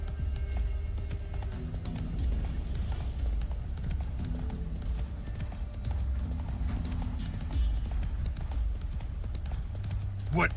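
Geralt's horse Roach in The Witcher 3 gallops on without pause, rapid hooves drumming close and loud for about ten seconds, with a brief whinny-like cry near the end.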